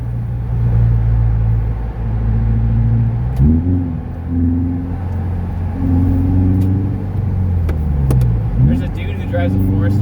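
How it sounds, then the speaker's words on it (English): A Subaru Forester engine and exhaust rumble from inside the car, a low steady drone that rises and falls as it shifts and accelerates, with a few faint sharp pops, and someone talking over it. "Curious how this car sounds on camera. Yeah, get some exhaust pops,"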